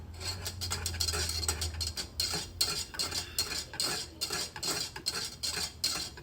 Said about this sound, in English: You have to stir. Keep stirring. You got to stir this for 5 minutes.